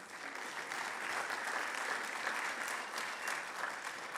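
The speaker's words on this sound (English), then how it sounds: "give yourselves a round of applause for being here" An audience claps steadily in a sustained round of applause, a dense even patter of many hands with no speech over it.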